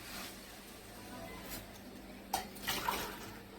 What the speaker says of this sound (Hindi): इसमें मैं 1 गिलास पानी डालूंगी